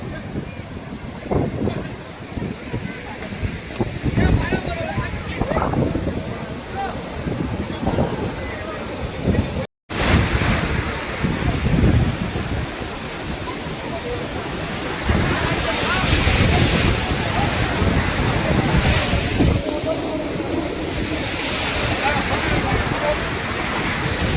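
Athirappilly waterfall in Kerala roars in a loud, continuous broadband rush close by, with heavy spray and wind buffeting the microphone; a voice speaks now and then under the roar, and there is a brief dropout midway.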